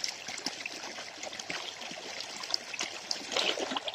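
Borewell water pouring out near a paddy field, a steady close trickling and splashing stream that runs continuously with small gurgling bursts.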